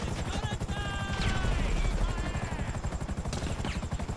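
Helicopter in the video game GTA Online coming in to land, its rotor chopping in a fast steady pulse throughout, with gunfire-like bursts and faint game sounds layered over it.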